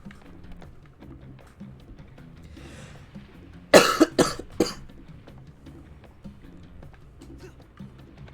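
A short burst of three harsh, close coughs rises sharply over quiet background noise and soft murmuring.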